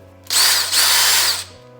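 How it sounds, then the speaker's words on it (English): A power drill bores screw holes into a wall for mounting hooks, a loud steady whine running about a second with a brief dip midway, close and alone with a low hum beneath. "So we're gonna start drilling holes for the hooks."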